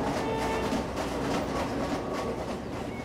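Train in the Roblox Jailbreak video game rolling past nearby, a dense continuous rumble with a rhythmic clatter holding steady throughout.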